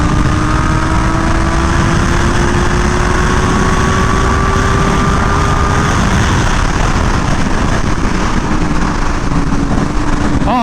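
A BMW M1000R motorcycle engine drones loud and close while riding unrestricted, holding a steady high-revving tone with slowly rising pitch and heavy wind rush throughout.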